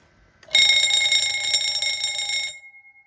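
A Radionics D2071 fire alarm communicator setup sounds its alarm after a manual pull station is pulled: a loud, steady electronic tone with a faint pulsing edge starts abruptly, holds for about two seconds and then cuts off, leaving a thin lingering tone.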